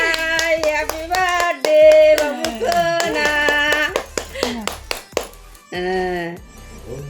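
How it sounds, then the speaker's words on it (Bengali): Hands clap in quick bursts at a baby's first birthday party at home, with voices singing and chattering close by throughout. "কি এমন করলাম হাততালি দিয়ে"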